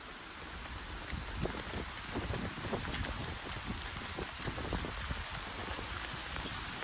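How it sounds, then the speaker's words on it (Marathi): Steady rain falls outdoors during a house festival, a dense even patter with scattered drops tapping nearby. "आणि पावसान परत सुरुवात केल्या ना"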